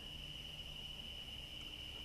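Crickets and tree frogs chirp at night in a continuous high-pitched trill, steady and moderately loud, with no other sounds.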